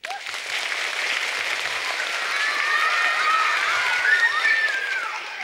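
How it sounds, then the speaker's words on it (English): Magic show audience clapping steadily and fairly loudly throughout, a dense wash of applause with a few whistles or cheers rising near the end. "but only if I hear enough clapping."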